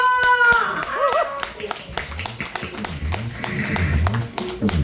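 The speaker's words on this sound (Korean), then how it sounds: "박수 한번 주세요 박수!" Audience claps at a performance by a pumba singer at the Sokcho sand lance festival, scattered claps under a loud speaking voice and background music.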